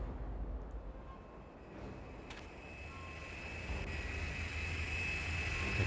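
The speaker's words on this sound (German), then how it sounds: "Da kommt jetzt wieder unsere Drohne angeflogen. Und sammelt uns ein." A drone in the game Carnivores: Dinosaur Hunter Reborn flies in to collect the hunter, a faint airy mechanical hum that slowly grows louder as it approaches, with a high steady whine and a couple of brief clicks.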